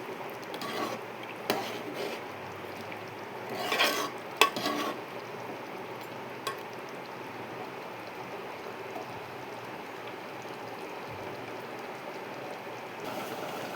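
Gongura chicken curry gets stirred in a pan after kasuri methi goes in: soft, wet scraping strokes bunch up in the first few seconds, then settle into a quiet, steady sizzle.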